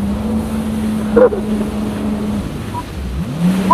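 A jet ski ride in Dubai speeding across the water, a steady droning engine with wind buffeting the microphone, while a rider briefly calls out over it.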